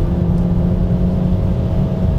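Audi S3 pulling hard in fourth gear on a motorway, a steady, loud engine drone heard from inside the car, with no talk over it.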